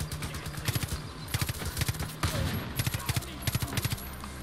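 Rapid bursts of automatic gunfire in the shooter game Far Cry New Dawn, several short rattling volleys repeating at a mid distance over ambient game sound.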